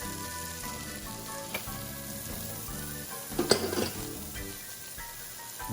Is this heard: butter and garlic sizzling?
yes